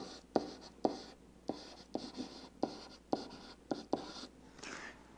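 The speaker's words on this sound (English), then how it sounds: "it's actually kind of an art to write on a smartboard" A marker taps and scrapes across a smartboard, with sharp regular strokes about every half second over a soft hiss, close and without talk.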